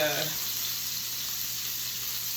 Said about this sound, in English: So right now I'm doing the beef. It's cooking up.